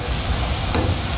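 Bacon and sausage frying gently in a pan until lightly browned, a soft steady sizzle with faint stirring, close and alone for about a second.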